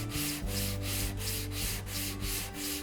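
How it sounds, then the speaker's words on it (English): Wooden cutting board pieces rubbed back and forth on sandpaper stuck to a table saw top give a steady, close, rasping scrape that swells and dips with each stroke. "you could use a piece of sandpaper stuck to your table saw and then just run the pieces back and"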